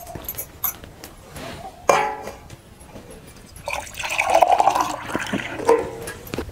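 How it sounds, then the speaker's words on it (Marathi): Water poured from a jug into a cooking pot set on a wood-fired clay stove, a splashing gush that swells and fades across several seconds, fairly close, with some clatter and no talk. "आता आपण चुलीवरती पातेलं ठेवूयात आणि या पातेल्यामध्ये पाणी घालूया"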